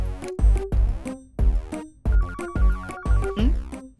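A phone rings with a melodic ringtone, repeated bursts of tones in a steady rhythm, loud and close, with no talking over it.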